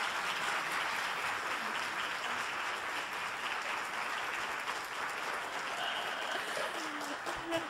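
An audience gives a sustained, robust round of applause welcoming a speaker to the lectern at a church-state lecture, a dense even wash of clapping that holds steady and then begins to thin near the end.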